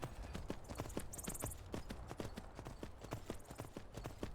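A horse's hooves clip-clop steadily in Skyrim, a quick, even rhythm of close hoofbeats over a low background rumble.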